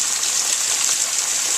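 A waterfall heard from the top, giving a loud, steady rush of falling water with a bright hiss, continuous and close, with no speech.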